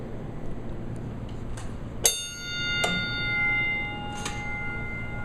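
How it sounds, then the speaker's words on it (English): An old ringside boxing bell is struck a few times, each sharp metallic ding ringing out and fading over a steady background hum. "boxing bell."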